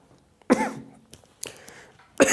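An ill person coughs during a classroom lesson, giving a couple of harsh, close coughs with a short throat-clearing between them, heard alone without speech.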